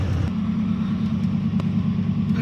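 A cheap old Chevy 350 V8 pickup engine rolling downhill, a steady low rumbling drone with road noise throughout, close and fairly loud.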